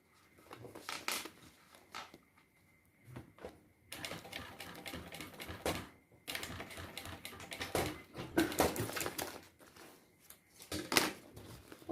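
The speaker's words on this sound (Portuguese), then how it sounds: "Agora eu subo costurando." A sewing machine stitches a unisex fanny pack in quick bursts of rapid mechanical clatter, stopping and restarting with short pauses, close and fairly quiet.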